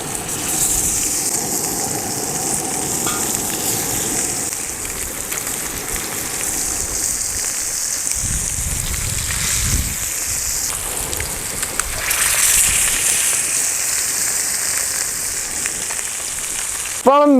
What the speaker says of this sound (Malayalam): അപ്പോൾ നമുക്ക് മീനൊന്ന് വറുത്തെടുക്കാം